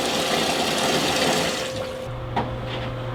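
Water rushes through a water heater valve in a loud steady gush that eases off midway, leaving a quieter flow with a low hum and a brief clunk, no voices heard.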